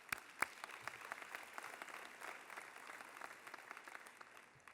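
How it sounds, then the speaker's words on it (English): An audience applauds at a recognition event for Arizona's statewide summer reading program, with dense, even clapping from a crowd sustained throughout, punctuated by a couple of sharper nearby claps at the start. "I think that deserves a round of applause."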